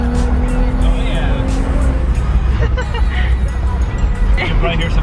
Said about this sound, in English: You can probably hear some backfires when I downshift.